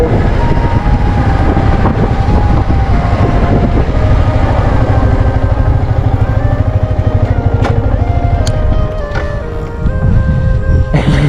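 Yamaha MT-15 motorcycle ridden outdoors, its engine droning loud and steady throughout with a continuous rumble and shifting tonal whine, a brief dip near the end.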